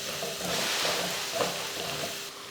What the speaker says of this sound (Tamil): இதை போட்டு நல்லா இதையும் மசாலா போட்டு நல்லா கலந்துடலாம்.